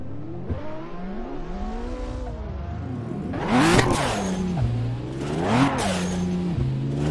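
A BMW engine in the racing game Assetto Corsa revs hard through rising and falling pitch sweeps, with two loud surges as it climbs and drops, heard alone and close.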